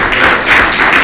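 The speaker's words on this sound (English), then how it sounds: "Can we just give the Lord a hand clap of praise in this house?" A church congregation claps in praise to the Lord, a brief loud burst of dense, roomy applause with no talking over it.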